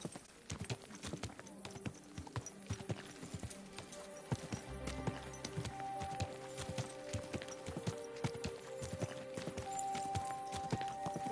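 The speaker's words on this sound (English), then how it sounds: "Easy, good horse." Horse hooves clip-clop on a road at a steady walking rhythm, close and distinct, with occasional soft rider voice and light tack clatter.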